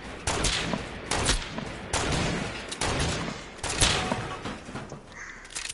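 Gunfire in Fortnite, a string of loud, evenly spaced shots with chattering bursts between them, close up and continuous across the short stretch.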